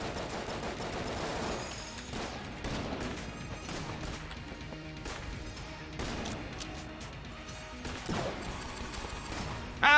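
The skeleton head gun fires bullets in Enter the Gungeon: dense, continuous game gunfire and chiptune-like effects rattle through the whole stretch at a steady moderate level, ending with a brief louder burst.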